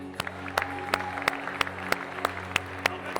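A church congregation claps in a steady, even rhythm to acclaim Jesus, each clap crisp and regular, over sustained musical tones and a low background hum.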